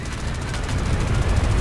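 Mortar shot in the 1 Million Zombies video game, heard as a dense, loud, continuous rumble of explosions and gunfire with heavy low boom throughout.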